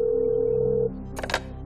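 A telephone line tone sounds on a Turkish TV quiz show phone-a-friend call. One steady tone holds for under a second and cuts off, then a brief burst of clicking follows.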